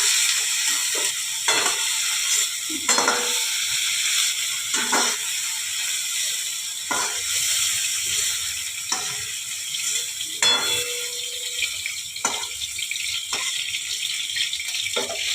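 Gugli snails frying in a pan, a steady broadband sizzle with scattered stirring scrapes and clicks throughout, fairly close and alone without talk.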